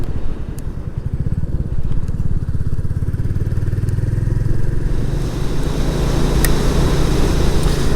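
A Royal Enfield Classic 350 motorcycle rides steadily while touring North Wales, its single-cylinder engine thumping loud and close with a constant rumble and rising revs over the road.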